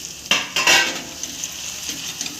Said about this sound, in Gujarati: હવે આપણે આ મેશ કરેલા શક્કરિયાને ઘીમાં રોસ્ટ કરી લેવાના છે શેકી લેવાનું છે